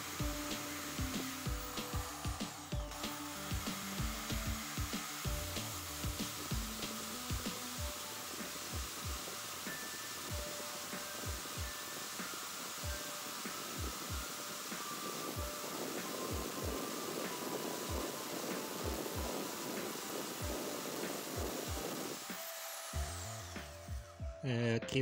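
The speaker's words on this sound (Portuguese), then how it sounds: "Nós vamos passar aqui então com a furadeira na lima para que o processo seja rápido" A power drill whirs steadily while a spinning file rasps against gunsight bead putty for a muzzle, in quick, repeated strokes, running for a long stretch.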